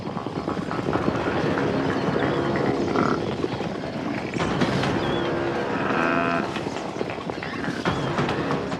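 A herd of buffalo stampedes across open ground, a continuous loud rumble of hooves and bodies with occasional lowing calls rising above the thunder.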